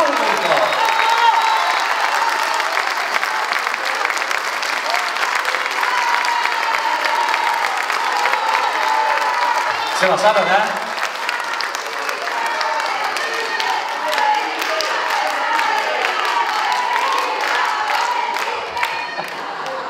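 Sustained audience applause for performing artists at a Teachers' Day school event, with cheers and shouts blending into thick clapping that dips briefly midway before continuing, while a few words are spoken over it.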